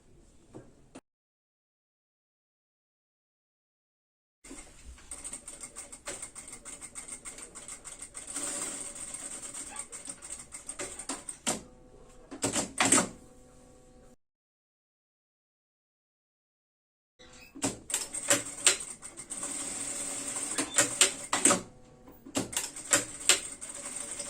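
A sewing machine runs stitches along a fabric seam for a baby stroller bag, in two long rapid mechanical bursts separated by silent pauses, close up and steady, with brief stops and restarts between runs.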